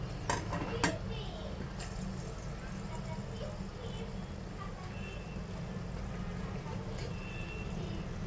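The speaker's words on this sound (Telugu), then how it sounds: "ఆయిల్ కొంచెం మరిగింది ఇప్పుడు ఒక రెండు యాలకులు రెండు లవంగాలు ఒక ఇంచు చెక్క" Whole cardamom pods, cloves and a piece of cinnamon fry in hot olive oil for a mutton kheema, giving a steady soft sizzle with a couple of sharp clicks near the start and a voice talking over it.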